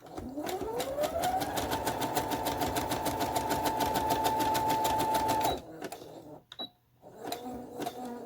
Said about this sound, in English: For my sewing machine, I don't use a foot pedal.